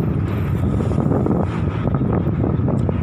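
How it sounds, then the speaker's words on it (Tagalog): Strong outdoor wind in central Hong Kong roars loudly and continuously against the microphone for a few seconds, a dense rumbling rush with no pauses. "Mahangin dito."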